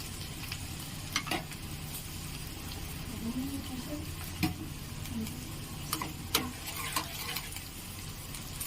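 Spice masala for paneer masala fries in a pan with a steady low sizzle, broken by occasional sharp ticks and taps of a utensil against the pan.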